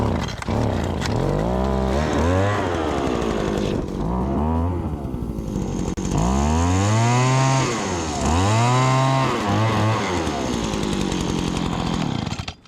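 A small two-stroke lawn equipment engine runs on stale fuel, a loud, steady buzz with repeated revving swells and dips, as if the throttle is blipped several times, and it holds on continuously throughout.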